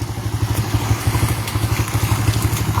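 A motorcycle or scooter rides along a damaged, dangerous local road, its engine putting out a close, steady, rapid low pulsing chug with light rattling over the top.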